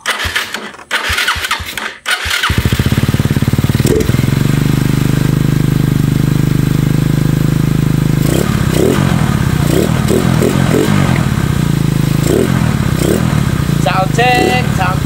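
A Raptor motorcycle engine cranks and fires up after a few clicks, then idles loudly and steadily nearby, with occasional revs toward the end and voices talking over it.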